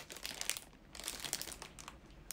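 Plastic package crinkled and crunched in bursts as it is forced open by hand without scissors, fairly close, with no talking.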